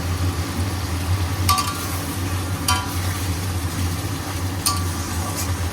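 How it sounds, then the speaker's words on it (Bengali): Masala fries in oil over a high gas flame, a steady low sizzle and burner rumble with a few sharp scrapes and clinks of a stirring spoon against the pan. "এবার গ্যাসের ফ্লেমটা হাই করে একটু কষিয়ে নেব"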